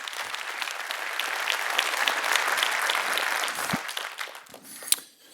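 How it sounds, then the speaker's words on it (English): A conference plenary audience applauds presenters, sustained clapping that swells mid-way then tapers off near the end with a couple of sharp knocks. "So a big round of applause for Bianca and Matt especially."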